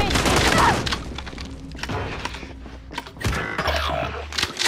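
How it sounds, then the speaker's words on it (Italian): Gunfire in a shooter video game, bursts of rapid shots and impacts under loud game noise and background effects, fairly faint overall, with people talking over it. "Mi stanno sparando."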